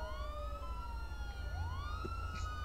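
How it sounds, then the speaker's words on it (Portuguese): A police car siren in the video game GTA V, sounding out of tune, wails in continuous rising and falling sweeps over a low engine rumble, fairly faint. "Olha a sirene da excelência, velho. Tá fazendo. Olha lá. Nossa, velho, tá tudo desafinada"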